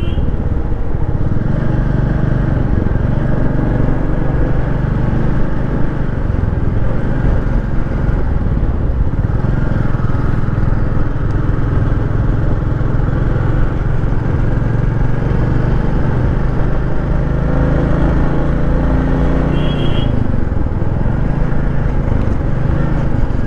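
A motorcycle rides along a smooth mountain road in Meghalaya, its engine a continuous close drone mixed with wind rush that rises and falls slightly with the throttle, while a rider speaks over it.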